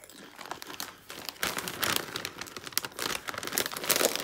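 Someone crunches barbecue crisps up close, with irregular crisp snaps and crackles building in loudness, and no talking.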